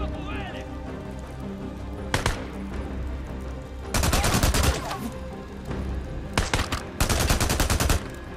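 Rapid bursts of automatic gunfire from a gun in the video game Days Gone crackle loudly in several separate volleys, with someone talking over the game sounds between shots.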